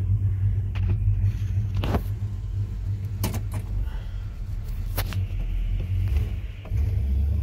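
A 1965 Chevrolet Impala with fuel injection idles smoothly, a steady low rumble underneath a few sharp clicks and knocks from inside the car.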